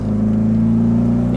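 Car driving and accelerating, a loud steady engine drone with a strong low hum heard from inside the vehicle, continuous and without speech.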